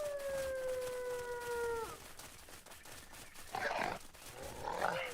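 Wolves or dogs in the survival game ASKA give a sustained, gliding howl that falls off after about two seconds, followed by scattered yelps and growls in the distance.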